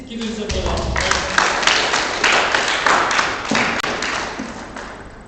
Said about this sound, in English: Please give him some applause.